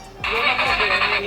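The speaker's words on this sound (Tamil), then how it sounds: "ஒரு இன்ஜின் ஆன் ஆகிறதுக்கான ஒரு ரியல் சவுண்டே வச்சுருக்காங்க." A toy RC car plays an electronic engine-start sound effect through its small speaker, kicking in abruptly and then running as a steady, buzzy idle hum, loud and alone.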